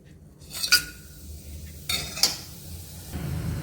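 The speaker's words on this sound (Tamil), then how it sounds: "மசாலாலாம் நல்லா பொரிஞ்சிச்சு." Whole spices (a piece of cinnamon, a bay leaf, fennel seeds, two cloves and a cardamom pod) fry softly in hot oil in a pan, with a low steady sizzle broken by a few sharp clinks of a spoon against the pan.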